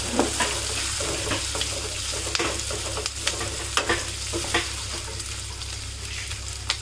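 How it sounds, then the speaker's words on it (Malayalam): Sliced onions frying in a pan, two medium onions being stirred with a continuous close sizzle and repeated scraping strokes of the spoon throughout. "നമുക്കൊന്ന് ഇളക്കി കൊടുക്കാം."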